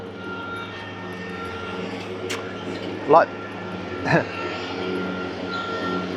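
A big noisy ride-on mower engine drones steadily nearby as a low, tonal rumble throughout, with a voice speaking briefly over it.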